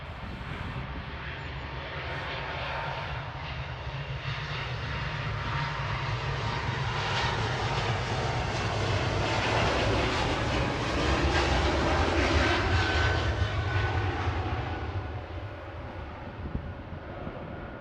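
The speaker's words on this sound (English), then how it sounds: "Air France on the roll" An Air France jet on its takeoff roll at Manchester Airport, bound for Paris Charles de Gaulle, gives off a steady, loud engine roar that swells through the middle and holds broadband, with no voices.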